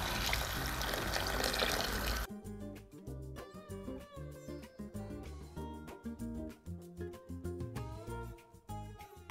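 Hot water poured over browned meat in a pot while cooking taro with meat, a brief loud rushing pour at the start followed by steady crackling, bubbling sizzle.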